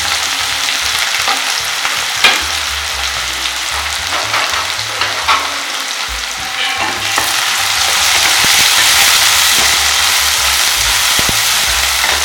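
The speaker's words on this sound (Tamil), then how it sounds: "சோம்பு பொரிச்ச உடனே வெங்காயம் போட்டுருங்க. வெங்காயம், பச்சை மிளகாய்." Onion and green chilli hit hot oil with fennel seeds, producing a loud continuous sizzle with stirring scrapes and clatter, swelling louder in the second half, close up and without speech.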